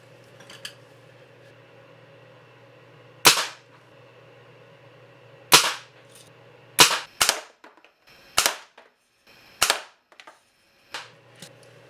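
Sharp spring-air pops from a Daisy 499B BB gun, seven shots fired at irregular intervals over a low steady background hum, each a crisp, close, loud snap with a short tail.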